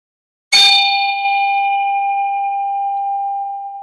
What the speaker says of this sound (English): Ringing the bell with a sense of reverence